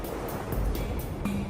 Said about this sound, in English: As the water flows over the rapids, it cuts deep into the bedrock below.